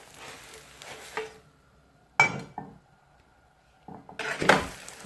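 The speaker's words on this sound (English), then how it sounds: "Now time to flip it over again." A sandwich flipped in a pan makes brief scraping clinks of a spatula against the metal, in separated bursts with quiet gaps between them, close and moderately loud.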